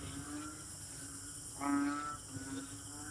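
Frogs croak in a steady chorus against a constant hiss of rain, with a louder, nearer croak rising briefly partway through.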